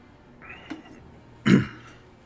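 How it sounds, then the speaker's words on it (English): A man coughs once, sharp and close, after a brief throat-clearing rasp, against a quiet indoor background. "Sorry, I've got this cough now."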